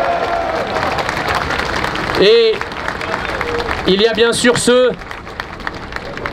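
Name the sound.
audience applauding at a political rally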